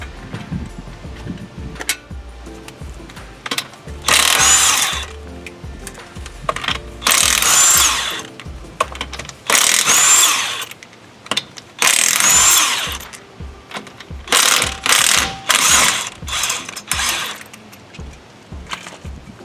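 A power tool rattles in loud, repeated bursts while loosening the lug nuts on a car wheel to change a flat tire. Each burst lasts about a second, with short quiet gaps between them and clicking in the pauses, and no talk.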